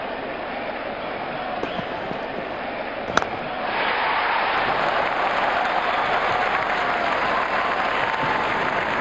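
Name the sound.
crowd cheering in a cricket video game (Sachin Saga Pro Cricket)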